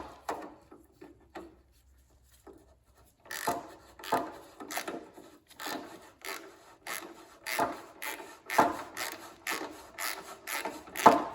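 Tool tightening a part during a VW clutch replacement: a few faint clicks, then a run of about ten sharp ratcheting, rasping strokes at a steady rhythm, close and distinct.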